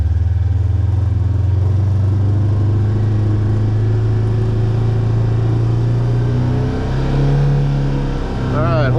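A Polaris RZR XP side-by-side engine drones loud and steady up close during a slow full-lock turn in 4-wheel drive, with a low even hum that shifts slightly near the end.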